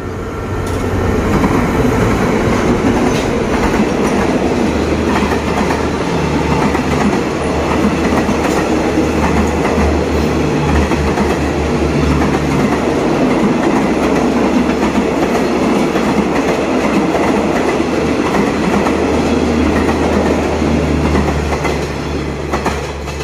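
A Thai State Railway Thaksin special express train rolls past at close range, a loud continuous rumble with steady clickety-clack of wheels over rail joints for the whole stretch, with no voices heard.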